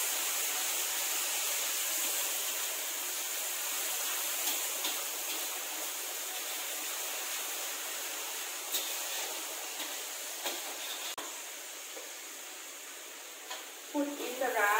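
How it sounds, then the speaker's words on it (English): Vegetarian fried rice sizzles steadily in a pan with oyster sauce and pepper, as a continuous broadband frying hiss runs throughout, with occasional scrapes and clinks of stirring, louder near the end. "Give it a good stir."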